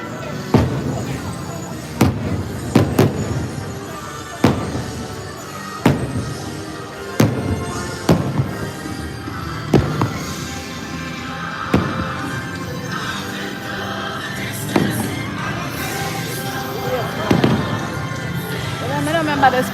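Fireworks at Disney World burst in a steady series of sharp booms every couple of seconds, fairly close and loud, with crowd chatter running beneath throughout.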